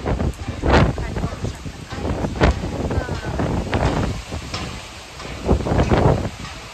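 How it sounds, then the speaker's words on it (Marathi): A strong storm of evening wind and heavy rain roars steadily, with gusty buffeting surges that rise and fall throughout and no other sounds breaking through. "तुम्ही पाहू शकता कसला डेंजर वारं सुटलंय, कसला पाऊस सुरू झालेला आहे"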